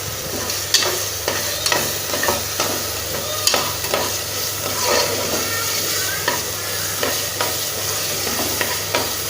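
Fenugreek leaves sautéed with rock salt in a pan for biryani: steady sizzling and frying, with a regular series of scraping stirs from a spoon, close up and without talk.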